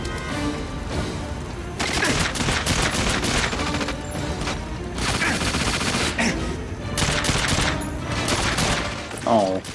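Heavy automatic gunfire from GoldenEye 007 on the Wii, set in a St. Petersburg station, rattles in sustained loud bursts separated by short pauses, with crashes and impacts mixed in and a final sharp ricochet-like whine.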